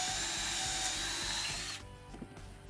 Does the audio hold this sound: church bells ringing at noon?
no